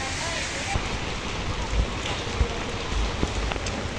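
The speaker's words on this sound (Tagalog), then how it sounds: "sitwasyon kay Diwata kapag ulan" Rain patters steadily with scattered louder drops and thumps, a dense hiss filling the background.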